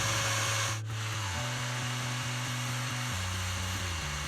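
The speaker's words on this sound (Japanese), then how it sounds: "ベルトサンダーで派手な傷を削ります。" A belt sander grinds scratches off a used motorcycle slash guard, a loud continuous motor whine with abrasive rubbing that shifts pitch slightly as pressure changes.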